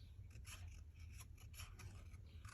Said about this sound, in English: Let's do a fussy cut on these. I love my new fussy cutting scissors I got.